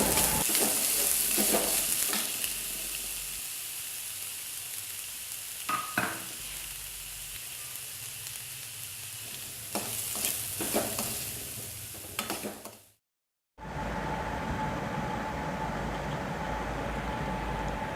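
Chopped onions sizzle in hot oil in a pan already seasoned with cumin, with scraping stirs and clinks of a spoon over a steady frying hiss, briefly cut to silence before the sizzle resumes.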